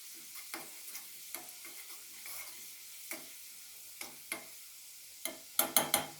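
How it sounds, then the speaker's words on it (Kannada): Garlic frying in oil until golden brown for hotel-style dal, a soft steady sizzle with scattered clicks and scrapes of a spoon stirring the pan, a few sharper knocks at the end. "ಬೆಳ್ಳುಳ್ಳಿಯನ್ನು ಸ್ವಲ್ಪ ಕೆಂಪಾಗೆ ಫ್ರೈ ಮಾಡ್ಕೋರಿ ಗೋಲ್ಡನ್ ಬ್ರೌನ್ ಬರುವಷ್ಟು ಫ್ರೈ ಮಾಡ್ಕೋಬೇಕು"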